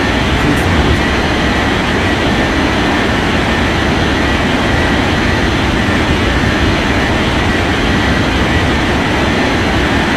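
Loud, steady jet engine roar of an Emirates airliner taking off from runway 35 in an air traffic control game, a continuous broadband rumble that holds constant throughout.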